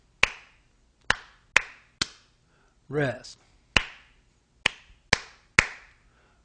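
Hand claps tapping out a four-beat bass line rhythm, sharp and close, in uneven groups with pauses for rests, while a single spoken word interrupts midway.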